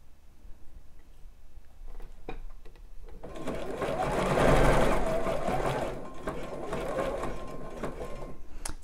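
A domestic sewing machine stitches elastic onto a bra near the underarm curve, running in a steady continuous whir that rises to a louder stretch midway, then eases and continues, with light clicks before it starts.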